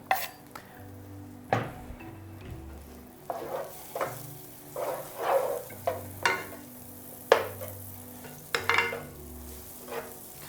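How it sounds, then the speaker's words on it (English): Bread cubes frying in butter in a pan for croutons, a steady close sizzle broken by repeated scraping stirs and clinks of a utensil against the pan. "the bread, the moment it hits the pan, is gonna soak all of that fat in"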